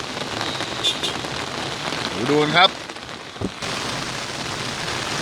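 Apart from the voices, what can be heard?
heavy rain pouring on flooded rice fields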